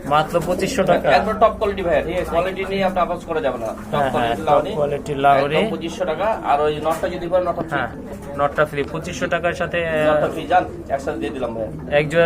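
Caged pigeons coo in repeated rolling calls, several birds overlapping close by and continuing throughout, with people talking over them.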